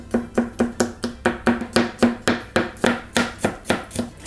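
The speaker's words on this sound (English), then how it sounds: "I've got a few cloves of garlic and a chilli, so I'm just going to chop these up" A knife chops garlic cloves and a chilli on a board in a brisk, steady run of about eighteen close, crisp thuds, with no talking.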